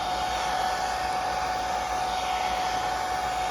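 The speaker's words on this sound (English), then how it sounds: "this is where we get the hairdryer again" A hair dryer blows warm air to help a replacement kite valve bond, running as a steady, close, unbroken whoosh with a constant whine and no pauses.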